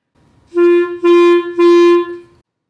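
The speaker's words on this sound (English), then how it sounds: "And that's the clarinet." A clarinet plays three sustained notes at the same pitch, separated by brief breaks, clear and close with no talking.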